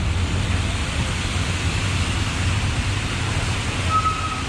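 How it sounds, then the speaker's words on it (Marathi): Heavy rain pours down on a dark evening in Pune, where a motorbike is parked with its battery on charge. It makes a steady, dense hiss that fills the whole clip and stays loud and even throughout, with no one speaking. "केवढा पाऊस आला बघा"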